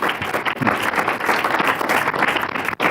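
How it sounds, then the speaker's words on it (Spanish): Loud, dense applause from a large church congregation, steady and continuous throughout with no pauses. "Dale fuerte el aplauso a Jesús"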